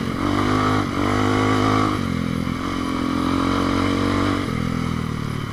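A Bashan 200 motorcycle is being ridden, its engine droning loud and close in a steady hum that shifts slightly as the throttle changes, with no voices.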